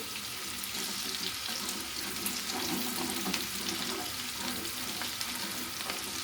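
Butter and olive oil melt and fry in a pan with peppers for menemen, giving a soft continuous sizzle and crackle at low level, with faint stirring and no talking.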